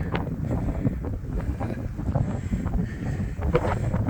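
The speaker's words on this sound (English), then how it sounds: "You might be able to hear the wind." Strong wind gusting through a winter snowstorm, with about a foot and a half of snow on the ground near a lake. It gives a steady, loud roar with rumbling buffeting against the microphone and no voices.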